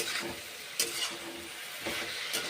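Raw banana, papaya, cauliflower and bitter gourd sautéing in a pan, a continuous close sizzle broken by a few louder scraping stirs of a utensil against the pan, with no voices.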